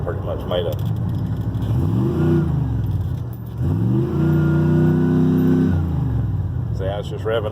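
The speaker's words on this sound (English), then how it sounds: "see how it's just revving up." A car with a 700R4 automatic transmission that fails to shift revs up hard twice, engine pitch climbing and holding high before dropping back, loud and close, with someone talking over it.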